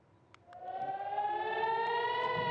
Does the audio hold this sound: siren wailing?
yes